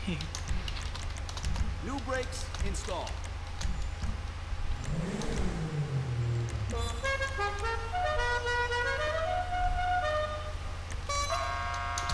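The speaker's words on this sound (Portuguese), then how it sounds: "Buzina de polícia, velho." Police car horn on a modded BMW 750Li in the GTA V video game, a series of electronic siren-like tones and wails heard over a steady engine hum, with keyboard typing and talking alongside.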